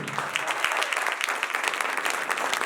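Dense audience applause, steady and continuous, many hands clapping together from a sizable crowd.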